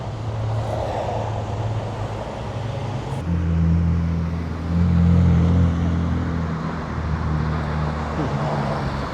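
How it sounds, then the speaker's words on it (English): Downtown street traffic on an afternoon, with steady car engines and road rumble close by and a heavier vehicle swelling louder around the middle before easing off. "That's why there's quite a bit of traffic up here today."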